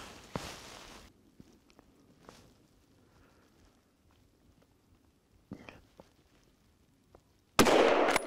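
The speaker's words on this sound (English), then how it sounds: "I will shoot the small one." A rifle fires at a wild boar during a hunt: a single sudden loud blast near the end, after several seconds of quiet outdoor rustling and soft sounds.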